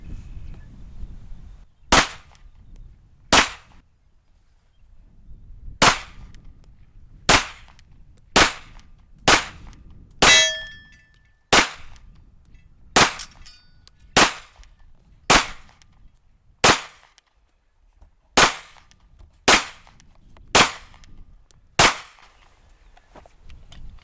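About sixteen sharp CZ75B pistol shots fired one at a time at watermelons and pineapples outdoors, evenly spaced and loud, with quiet gaps between each crack.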